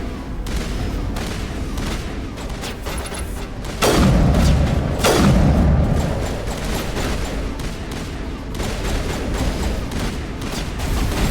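Gunfire in a Mass Effect firefight: near-continuous sci-fi weapon fire with two heavier booming blasts in the middle, all loud and dense from start to finish.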